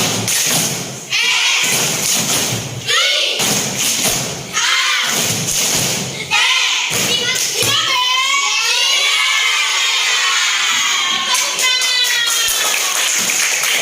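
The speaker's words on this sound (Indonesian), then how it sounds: "Coba kita tepuk siap seperti biasa." A classroom of young children in Indonesia performing the rhythmic "tepuk siap" clapping chant, with loud sharp claps in quick patterned bursts and shouted voices in unison, close and lively, followed by an adult teacher speaking.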